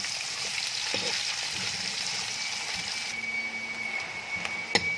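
Onions sizzle steadily in a pan of hot oil for a light-browning fry, with occasional scrapes and clinks of stirring over the constant broadband hiss.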